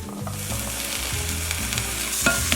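Onions sizzling in a pan for Brazilian feijão tropeiro, a close continuous frying hiss with stirring scrapes and a clatter near the end.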